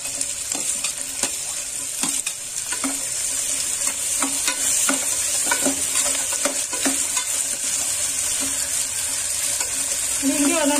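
Potato pieces frying in a pan for Malenadu vegetable pulao sizzle continuously. Irregular clinks and scrapes of a stirring spoon punctuate the sizzle, which builds slightly louder toward the end.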